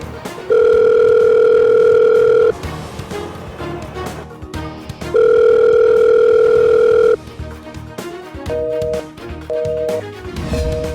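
Outgoing telephone call ringing back, with two long electronic ring tones of about two seconds each separated by a pause, loud and close, followed by shorter faint beeps near the end.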